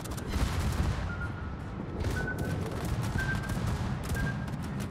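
Naval gunfire and incoming shells in World of Warships aboard the Graf Spee, a dense, continuous rumble of booming cannon fire and blasts that stays loud and steady throughout.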